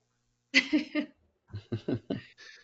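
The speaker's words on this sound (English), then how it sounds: "Good, because I had to cough." A man on a webinar call coughs in two close clusters of three sharp bursts each, with a short pause between, then trails off.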